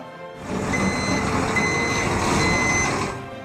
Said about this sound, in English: this sound of a truck backing up